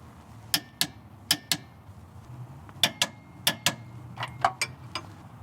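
A ratchet-style torque wrench clicks in sharp paired bursts while tightening rear shock bolts on a Mercedes Sprinter 3500 Class C motorhome, close and crisp with short gaps between strokes.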